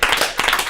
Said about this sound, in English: Give a round of applause for Joe behind the bar